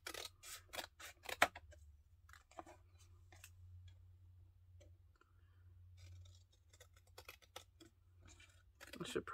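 Scissors snipping paper for handmade faux black-and-white photo ephemera, a few quick close snips in short bursts separated by quiet stretches, with a low steady hum underneath and a louder cluster of cuts at the end.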